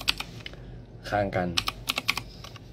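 Heavy, solid-sounding computer keyboard typing: a brief voice first, then a run of crisp, close keystroke clicks at an uneven rhythm.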